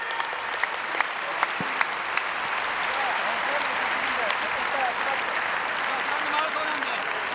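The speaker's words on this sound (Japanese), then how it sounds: "大きな拍手をお送りください" Stadium crowd at a Yokohama F. Marinos anniversary alumni football match applauding steadily during the lap of honour, a broad, distant wash of clapping with occasional sharp nearby claps and faint crowd voices.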